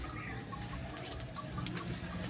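Chickens on a rural property in Rizal, Calabarzon, clucking faintly in short, scattered bursts over a low outdoor background hum.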